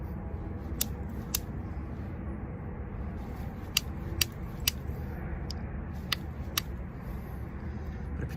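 Sharp, scattered clicks and scraping taps as low-quality beach quartz is knapped and thinned into a pointed tool, about eight brief strikes spread irregularly over a steady background rush of surf or wind.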